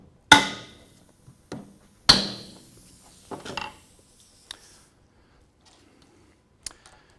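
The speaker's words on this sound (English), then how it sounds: "using our tap hammer, we're just going to tap those bolts to separate the lower legs from the upper assembly" A tap hammer strikes the foot bolts of a RockShox Lyrik or Yari suspension fork: a few sharp metallic knocks, two loud and close, followed by lighter taps and small clicks in a quiet workshop.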